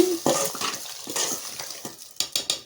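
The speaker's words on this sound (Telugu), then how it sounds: "ముందుగా మనం కలిపి పెట్టుకున్నాం కదా వంకాయ కూర, అవి పోసేసుకోవాలి. ఇది మొత్తం కలుపుకోవాలి." Brinjal curry for an Andhra-style vankaya pulusu being stirred in a pot, with a few scraping, clinking strokes and wet sloshes close by, ending in three sharper knocks against the pot.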